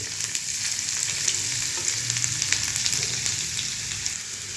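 Chopped garlic frying with prawns in butter over a high flame, giving a dense, steady, loud sizzle with small crackles throughout and no voices.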